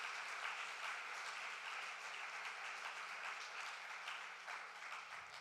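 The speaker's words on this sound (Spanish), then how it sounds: "Dele palmas a su Dios, mi hermano, con todo su corazón." Church congregation clapping steadily throughout, a dense continuous applause that carries evenly from start to finish before easing slightly near the end.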